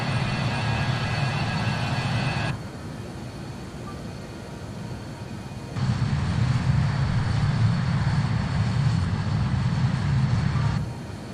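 Steady aircraft engine drone inside a small plane on a Rome and Vatican City tour, loud and continuous with shifts in level as the cabin sound changes, with no talking.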